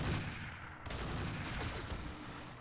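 Mech weapons firing in the Roguetech mod of the BattleTech video game: a dense, steady barrage of blasts and rumble with sharp bursts near the start and middle, loud and continuous, with no talking.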